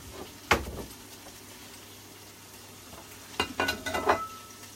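Onions and garlic frying for a curry, a low background sizzle broken by a sharp stirring scrape early on and a cluster of clattering stirs and pan knocks near the end, with no talking.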